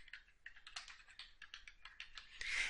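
Rapid, light clicking of keys on a computer keyboard as text is entered into a spreadsheet cell, a close, continuous patter of keystrokes with no voices.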